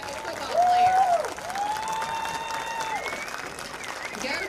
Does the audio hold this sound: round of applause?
yes